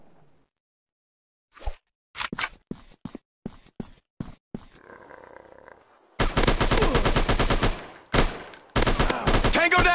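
Gunfire from the Zombies Fire Strike mobile shooting game: a handful of sharp, separate shots at first, then sustained loud bursts of rapid automatic fire filling the second half, with brief gaps between bursts.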